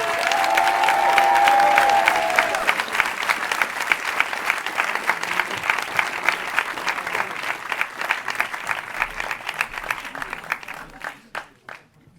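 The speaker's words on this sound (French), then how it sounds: "on peut encore une fois applaudir Léa Druet pour son discours et son engagemen" An audience at a French campaign launch rally in Clichy breaks into loud applause and cheering after a speech, the clapping thick at first, then thinning into scattered claps that fade out near the end.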